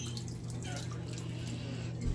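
Organic apple cider vinegar poured into a bowl of water holding vegetables such as broccoli, making a faint, steady trickle and light splashing in a quiet room.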